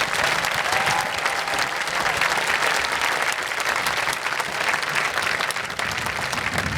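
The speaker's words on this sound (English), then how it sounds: "So round of applause for all the teachers." Ceremony audience at a school moving-up ceremony applauding the teachers, a dense, steady wash of many hands clapping at full loudness throughout.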